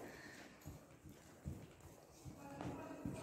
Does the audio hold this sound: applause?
no